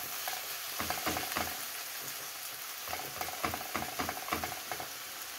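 Beaten egg yolks fry in a heated pan, giving a continuous close sizzle with bursts of scraping and tapping from a utensil as the mixture is spread.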